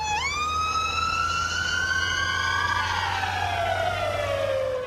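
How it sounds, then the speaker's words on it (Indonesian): An ambulance's wailing siren rises in pitch, holds, then drops as it passes, loud and steady with no other sounds. "Ambulan itu kan terus ngasilin gelombang bunyi dari sirenenya ya."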